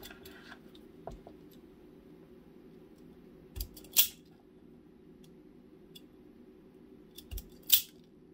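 Cutters snip a piece of wire during the wiring of a DIY power box, two sharp, close clicks several seconds apart with faint handling taps between them in a quiet room.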